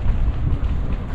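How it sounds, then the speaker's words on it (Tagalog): Strong wind buffets the microphone with a steady low roar on a trip to Burias, rumbling continuously with no voices. "Lakas ng hangin pero walang makakapigil sa amin."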